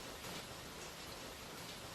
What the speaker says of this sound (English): That's why the sound is a little more rainy.